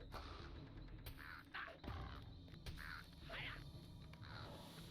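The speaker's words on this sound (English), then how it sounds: "Let's see if crows will do it for us." Several crows caw in a string of separate, fairly distant calls over a steady low background hum, heard from a high vantage point in a video game.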